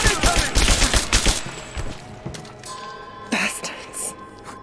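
Gunfire from Rise of the Tomb Raider: a rapid burst of close, loud shots in quick succession, then a few scattered single shots amid game sound effects.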